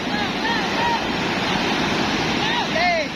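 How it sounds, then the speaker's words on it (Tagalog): Strong, fast-flowing river current rushes steadily and loudly throughout, a dense continuous wash of water close by, with brief whistle-like tones riding over it and no clear speech. "Lakas ng agos."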